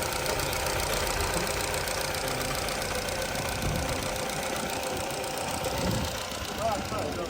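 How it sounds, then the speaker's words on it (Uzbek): A Chevrolet Cobalt sedan with automatic transmission idles at a car market, its engine giving a steady, even hum and knock that holds throughout at moderate loudness. "motor ishlashlari"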